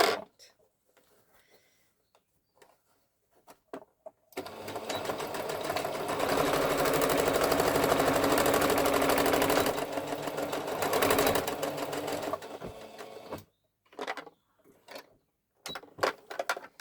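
A sewing machine stitching fabric for a bag runs steadily for about eight seconds, with a continuous whirring and rapid needle clatter, bracketed by quiet pauses and brief handling clicks.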